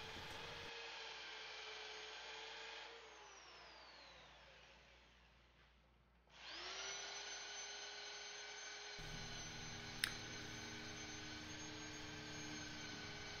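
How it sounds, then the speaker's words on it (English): A wood lathe spins a thin-walled wooden bowl during sanding, a steady whining hum of the motor with a tonal drone that dips, fades out, then spins back up, with one brief sharp tick near the end. "I'm going to sand the entire bowl and I'm going to work through all the grits"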